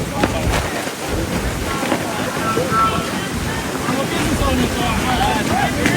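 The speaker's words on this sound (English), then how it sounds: "Golf ball size hail." Golf-ball-size hail pounds down during a storm at the Syracuse state fair, a dense, loud, continuous roar of hitting ice and rain with faint voices underneath.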